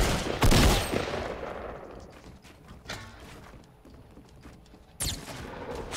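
Gunfire in the video game Fortnite, with a loud burst early on, scattered shots and thuds through the middle, and another sharp volley near the end.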